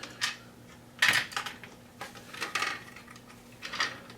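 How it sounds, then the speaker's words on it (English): A small metal lock nut drops into the hexagon-shaped hole of a RAM laptop mount locking kit, giving a few light, close metallic clinks and taps spread over several seconds. "drop the lock nut into this hexagon shaped hole"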